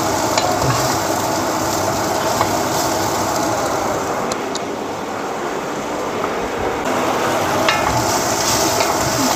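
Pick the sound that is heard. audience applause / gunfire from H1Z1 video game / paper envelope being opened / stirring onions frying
stirring onions frying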